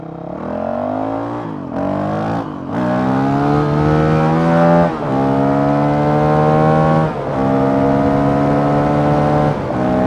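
A Honda CRF 450 RL dirt bike engine revs loudly and close up in repeated surges, its pitch climbing and dropping between short throttle blips across the whole stretch.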